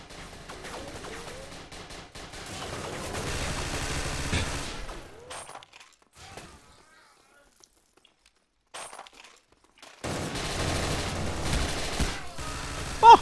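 Gunfire in the tactical shooter Tactical Intervention: dense bursts of shots with clinking and breaking glass, then a near-silent gap with scattered faint noises, before loud firing resumes toward the end.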